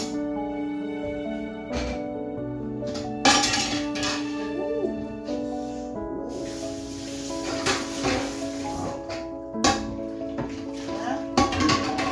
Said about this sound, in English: I'm gonna put some hot water from a kettle to get out the grease